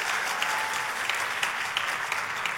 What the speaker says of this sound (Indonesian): Tepuk tangannya buat Yesus yang paling hebat